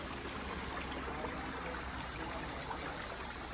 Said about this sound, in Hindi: सामने बिल्कुल पानी जा रहा है।